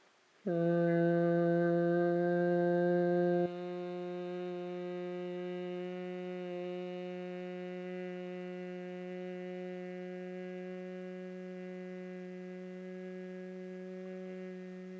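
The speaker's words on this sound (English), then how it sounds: "We're just going to inhale through the nose and exhale, making a humming sound." A long, steady humming exhale during yoga breathing for stress relief, low and continuous, louder for the first few seconds, then settling into a softer sustained hum that carries on for over ten seconds without talk.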